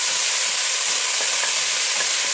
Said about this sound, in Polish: Chwilę smażę, ale nie mieszamy, dlatego żeby mięso złapało, zarumieniło nam się pięknie w garnku.